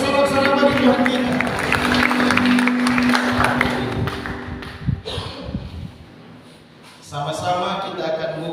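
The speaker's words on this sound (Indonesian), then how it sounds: "Beri sorak-sorai bagi Tuhan kita." Church congregation at a Sunday morning Pentecostal service cheering and clapping loudly, a dense roar with claps and voices that fades midway, then a shorter burst returns near the end.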